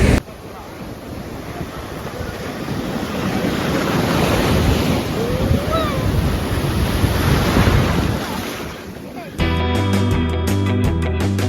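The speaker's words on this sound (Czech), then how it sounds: "jsou tady úplně brutální vlny a děcka se na tom parádně vyžívají" Big ocean waves break on a beach in south Mahé, Seychelles, a steady, loud, churning roar with heavy wind buffeting the microphone. For the last two seconds a tonal, music-like passage takes over.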